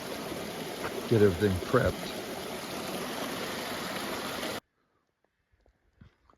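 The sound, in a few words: Castle Creek stream flowing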